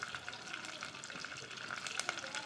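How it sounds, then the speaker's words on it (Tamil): Curry leaves, mustard seeds and fenugreek sizzle steadily in hot oil for a Kerala-style sardine curry, a dense continuous crackle with small pops and occasional stirring, close and moderately loud with no talking. "கருவேப்பிலை போட்டாச்சு கருவேப்பிலை கொஞ்சம் கலர் மாதிரி வந்து நல்லா பொரிஞ்சு வரட்டும்"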